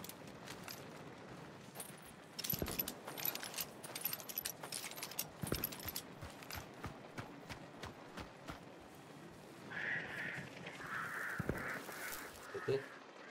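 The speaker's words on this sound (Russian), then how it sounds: "Да-да, это я ворон сшугнул." Crows flushed from cover caw in a quick burst amid the outdoor ambience of the Hunt: Showdown 1896 video game, following scattered footsteps and rustling, moderately loud over a steady background.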